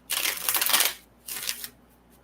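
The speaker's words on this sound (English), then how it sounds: "Okay, this is last shuffle." A deck of cards is shuffled by hand in two quick riffles, crisp and close, the first longer and the second shorter, with no talking.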